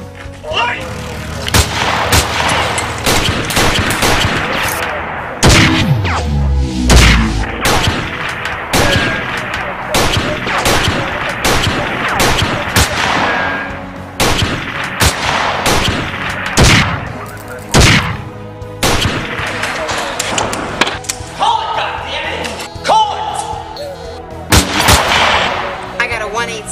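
Rapid gunfire crackles through a movie gunfight in a Detroit street drama, loud sharp shots in bursts and volleys with heavy booming impacts, nearly continuous for the whole stretch.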